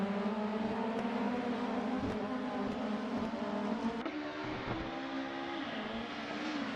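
BTCC race cars at Snetterton in a racing video game, a dense, continuous engine roar from a packed grid with layered droning pitches that shift and step up partway through, steady and loud throughout with no talking.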